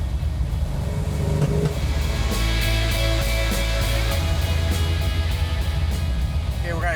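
A 1970 Dodge Challenger V8 breathing through three 2-barrel Holley carburetors rumbles loudly from inside the car, its deep drone swelling as it accelerates, with occasional talk over the engine.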